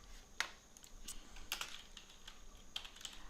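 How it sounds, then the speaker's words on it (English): Typing on a computer keyboard: a few sharp, close key clicks arrive in irregular clusters with brief pauses between, quiet and alone. "I'm actually going to type in the word side"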